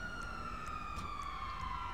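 Ambulance siren in GTA Online, a loud sustained wailing tone sliding slowly downward over a rumbling engine and traffic background, with no talking.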